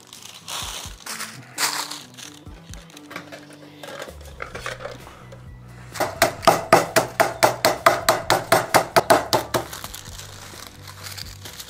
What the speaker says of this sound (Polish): Teraz będziemy rozbijali kotlety.